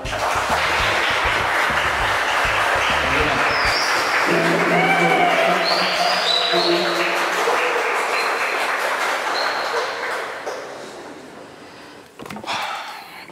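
Audience applause at an indoor gathering: a dense, steady wash of clapping that lasts about ten seconds, then fades and stops.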